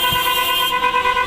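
Car horns blare in a sustained, steady tone during a street celebration after an election in Cyprus, loud and close, with no speech over them.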